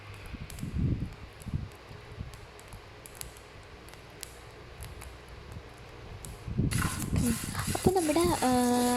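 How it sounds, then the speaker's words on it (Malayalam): Rice grains dry-roasting in a pan give off faint, scattered crackles and small pops over a quiet background, with voices and louder kitchen sounds joining near the end. "നമ്മുടെ അരിമണികളൊക്കെ നല്ലോണം പൊട്ടി വരുന്നുണ്ട്"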